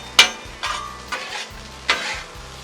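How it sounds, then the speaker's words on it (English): Rice stirred with butter on a hot flat-top griddle: four short scraping strokes of a utensil over a faint, steady sizzle, close and without talk. "come in here and stir that up, get that butter incorporated"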